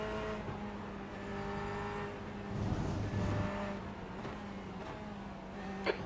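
Race cars circle the track during the Sebring 12 Hour endurance race: a steady engine drone from inside the car, rising into a louder surge of revving midway, with other cars faintly audible nearby.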